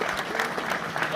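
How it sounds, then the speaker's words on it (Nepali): A crowd claps at a Nepali political party gathering, a brief burst of dense, steady applause with faint voices mixed in. "बत्ती नबलुन्जेलसम्म चाहिँ ताली बजाइदिनु होला आदरणीय साथीहरू"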